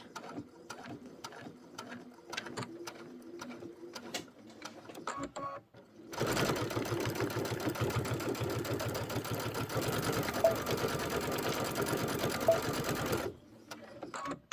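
A sewing machine stitches and backstitches a quilt block, a loud steady mechanical whir running for about seven seconds after softer handling noises, then stopping abruptly.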